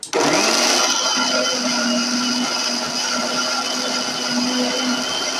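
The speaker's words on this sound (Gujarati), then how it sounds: "આપણે આ એડ કર લીધું છે બધું અને મિક્સરમાં ક્રશ કરી નાખ્યું મેં" An electric mixer grinder crushing cashews, almonds, peanuts and poppy seeds, starting abruptly and running as a steady loud high whine with a gritty grinding texture, close by and without talk.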